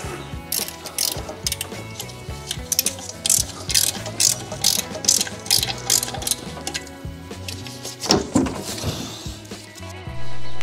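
A ratchet clicks in quick repeated bursts as belts are removed from the engine of a 1976 Pontiac Trans Am, close and sharp, with pauses and a clunk of the tool near the end.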